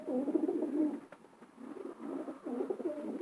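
Long-distance racing pigeons coo softly and repeatedly at close range, low rolling calls in a few bursts with short pauses, with no talking.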